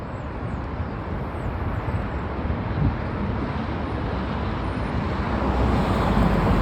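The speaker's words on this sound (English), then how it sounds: "You can see the planes land on the background." A steady, broad roar of landing airplane engines near the Imperial Highway and La Cienega Boulevard intersection in Los Angeles fills the scene, rising slightly toward the end, with a faint high whine above the rumble.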